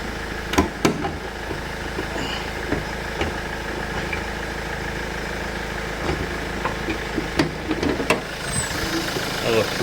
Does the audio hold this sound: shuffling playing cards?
no